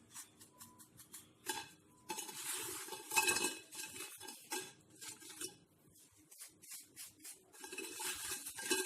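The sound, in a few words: crispy fried chicken bites being handled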